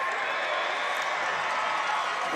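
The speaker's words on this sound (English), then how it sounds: "And the Hampton crowd shows their appreciation for that measurement and for Zion Dobson's effort" A Hampton County home crowd cheers in the stands at a high school football state final against Oceanside, a steady roar of many voices heard from a distance, dense and unbroken throughout.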